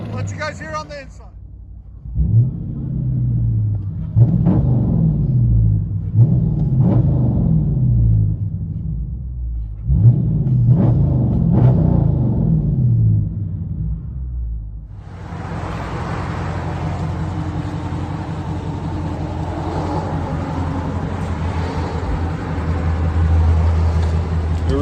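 From inside the cabin, a 2011 Dodge Charger with a 5.7L Hemi and true dual straight-pipe exhaust with an X-pipe rumbles deeply and surges in repeated revs, then settles into a steady drone while people talk over it.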